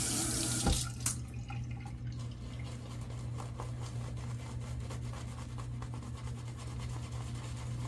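Tap water runs steadily from a faucet into a sink while whiskey shaving soap paste is prepared, a continuous close splashing hiss lasting throughout, with a brief clatter near the start and no talking.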